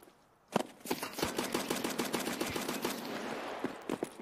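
Rapid automatic gunfire in the shooter game Escape from Tarkov, a quick rattling string of close shots after a short quiet start, followed by a few scattered single rounds near the end.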